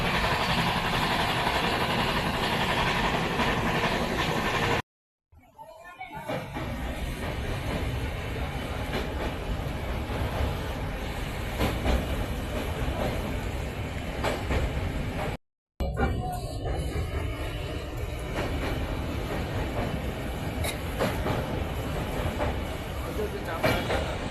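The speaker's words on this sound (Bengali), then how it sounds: "ট্রেন যাচ্ছে দেখো বন্ধুরা" A train passing through Sealdah station makes a loud, continuous rumble and rattle of wheels and carriages that fills the whole stretch, with two brief cut-outs and faint crowd voices in the background.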